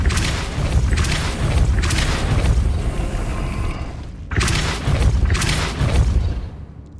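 Repeated Depulso repelling-spell blasts in Hogwarts Legacy: two loud, broad bursts, each rolling on for a couple of seconds, separated by a brief gap, with no talking.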